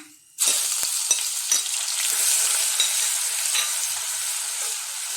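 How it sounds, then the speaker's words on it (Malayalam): Crushed ginger, garlic and shallots sautéing in hot oil with dried red chillies in a pan for a coconut anchovy fish curry; a sudden loud sizzle starts after silence and continues steadily with a few stirring taps. "ഒന്ന് വഴറ്റി കൊടുക്കാം"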